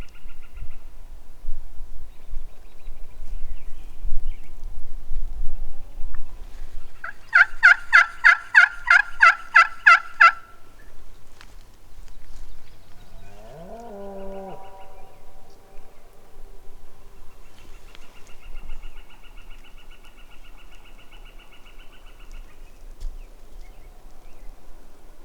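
Wild turkey gobblers in big public-land timber let out a rapid, rattling gobble at a distance, with other bird calls and a soft rustle of the woods around it.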